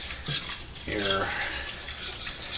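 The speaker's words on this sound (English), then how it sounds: "it kind of wants to clump up a little bit, but you just keep stirring" A thick scallop chowder roux is stirred in a pot, a soft close scraping and swishing of a utensil with a faint sizzle beneath.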